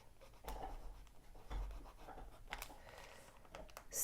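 A fountain pen with a fine steel Schmidt nib scratches faintly across paper in short, intermittent strokes, close and quiet, with brief pauses between the marks.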